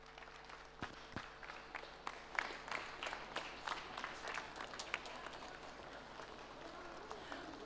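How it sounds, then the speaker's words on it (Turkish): Light, scattered clapping from a school audience for student performers at an international STEM education summit: sparse, quiet claps spread unevenly over several seconds. "Alkışlarımız Mektebim yıldızlarına."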